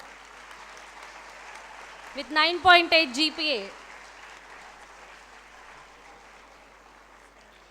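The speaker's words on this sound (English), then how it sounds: "I request everyone to please applaud" Audience applause at a school foundation day ceremony honouring a school topper, a broad steady patter of clapping running under a nearby announcer's voice that briefly speaks over it.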